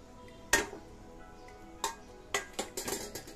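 Spoon stirring pointed gourd curry in a pan over a high gas flame, with a few sharp metallic clinks and scrapes against the pan at irregular intervals amid quiet sizzling.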